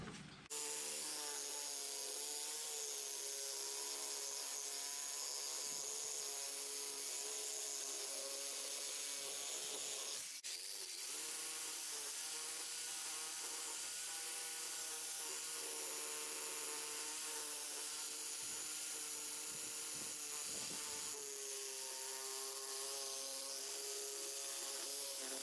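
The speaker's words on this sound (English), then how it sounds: "Now that we've cut our shafts down to proper length" A saw cuts through a tiller PTO shaft clamped in a vise, a steady grinding, humming rasp with a brief interruption partway through, running continuously and fairly close.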